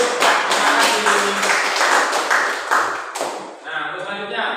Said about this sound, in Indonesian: tepuk tangan dulu untuk di belakang dulu